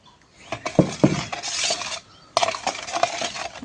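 A spoon clinks and scrapes against a bowl while fine semolina (rava) is mixed for rava biscuits, a few sharp knocks followed by bursts of gritty stirring with a brief pause in between, close and fairly loud.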